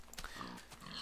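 Pigs oink in Minecraft with a few short, soft grunts, faint and close together within a second.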